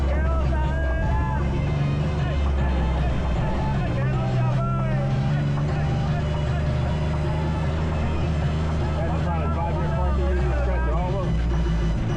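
Can-Am off-road vehicle driving down a jungle path on a San Juan, Puerto Rico excursion, its engine a loud, steady droning rumble up close, with voices and wind noise mixed in throughout.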